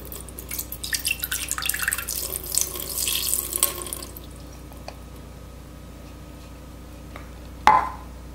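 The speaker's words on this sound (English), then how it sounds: "I'm going to pour in a cup of water." Water runs from a tap, a steady close splashing stream that stops after a few seconds. Quiet room tone and a single sharp clunk follow, as if for a Paula Deen multi cooker.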